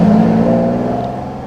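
A Jaguar with a big twin-cam six-cylinder engine revs hard through second and third gear, giving a loud, steady, close engine drone that eases slightly as it fades.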